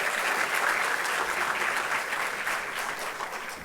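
A high school varsity awards crowd applauds its award winners, a full, sustained burst of many hands clapping that stays loud throughout and eases only slightly near the end.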